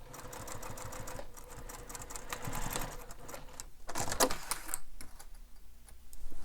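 A sewing machine top stitches along the curved edge of a bowler bag, whirring in a fast, steady mechanical chatter of needle strokes with brief changes in pace, close and continuous.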